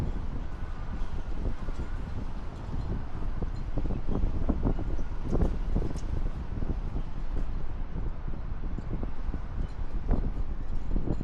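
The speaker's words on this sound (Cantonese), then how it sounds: "好大風，好舒服" Strong outdoor wind buffets and rumbles against the microphone in continuous gusty bursts, loud and close throughout.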